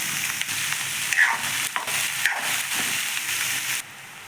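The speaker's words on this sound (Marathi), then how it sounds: "कांदा आपला तेलामध्ये परतत आहे।" Chopped onions sizzle steadily in hot oil with mustard seeds, a loud close hiss broken by brief stirring scrapes before the frying noise drops off near the end.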